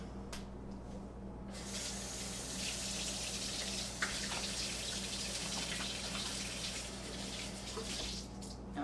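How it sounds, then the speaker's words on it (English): Steady running tap water splashing over hands at a kitchen sink, close and continuous, with small shifts in the splash as the hands move under the stream. "rinse my hands off here for just a minute because I got some juice on there"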